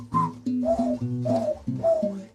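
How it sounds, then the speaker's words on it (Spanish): Tonal mouth whistling in four short, sliding phrases with cooing, dove-like contours, loud and close with no talking. "Es aire impulsado que es cortado por alguna estructura. Eso es un silbido."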